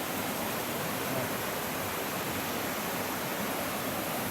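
A waterfall at Fall Branch Falls roars on a hike, a loud, steady, broadband rush of water that stays unbroken throughout with no voices.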